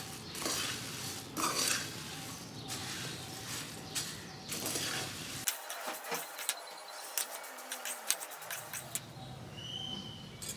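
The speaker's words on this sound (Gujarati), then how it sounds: "મમરા વઘારી નાખું" Puffed rice is stirred in a pan while being tempered, giving close, repeated scraping and rustling strokes; a low hiss drops out midway, leaving sharper spoon clicks.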